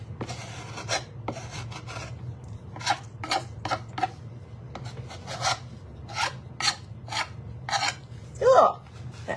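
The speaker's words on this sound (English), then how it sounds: "I'm just scraping down to some of that color underneath." Paint layers being scraped off a mixed media snowman artwork, a series of short rasping scrapes in an irregular rhythm, close and moderately loud, with a low steady hum underneath.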